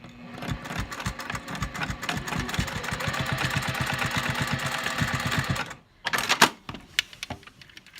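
A sewing machine stitches a flat seam on a fabric wristlet strap, running a steady, fast, close mechanical whir with rhythmic needle thumps for several seconds, then stopping and giving way to a few handling clicks and knocks.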